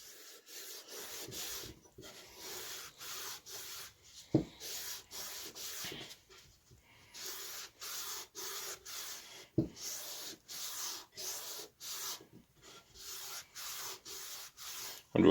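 Repeated rubbing strokes as clear oil is worked into a wooden tack hammer handle, a soft rhythmic swishing in short bursts with a few brief knocks, close and quiet.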